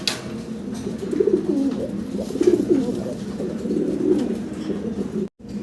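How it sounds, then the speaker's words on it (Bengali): Indian fantail pigeons coo repeatedly in low, throaty rolling calls, close by and fairly loud, with a short break near the end. "এটা ইন্ডিয়ান ফ্যান্টেল ভাই। ইন্ডিয়ান ফ্যান্টেল কবুতর।"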